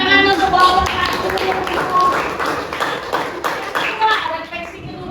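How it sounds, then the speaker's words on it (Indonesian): A group of adults and children claps for a team during a school learning session, a rough burst of handclaps mixed with lively chatter and voices. "tepuk tangan untuk kelompok 1"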